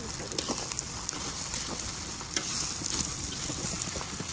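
Small pieces of Manchurian being tossed and stirred in a hot pan, a steady, faint crackling sizzle with soft scraping throughout, no talk.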